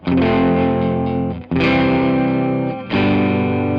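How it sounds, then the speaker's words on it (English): Electric guitar through a Quad Cortex profile of a Mesa Boogie Fillmore 50, no compression, strummed with heavy distortion, three sustained chords ringing loud and full, with natural dynamics and no voice. "here's how my guitar sounds without any compression on it"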